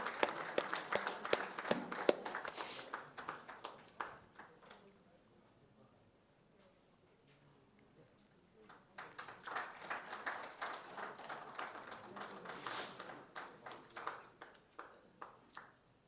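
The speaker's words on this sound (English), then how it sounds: "a big round of applause for Dr. Pandit." An audience at an engineering awards ceremony bursts into applause, with scattered claps fading into a quiet gap before a second, fuller round of clapping swells and tapers off.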